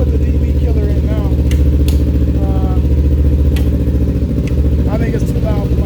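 Kawasaki Ninja motorcycle fitted with a Yoshimura aftermarket exhaust, running with a loud, steady low rumble that is close and continuous throughout, with a few faint clanks and a voice briefly over the top.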